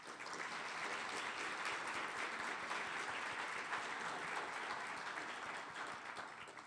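Sustained audience applause at a City Club of Cleveland member event, a dense steady wash of many hands clapping throughout, fairly distant and even in level, with no talking over it.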